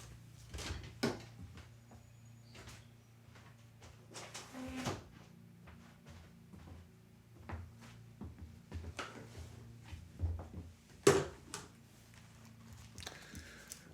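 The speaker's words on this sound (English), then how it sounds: "I'm gonna close my window here." Someone closes a window indoors, making a scattered series of soft clicks, knocks and short sliding thuds. The sounds are faint and close, over a quiet low hum.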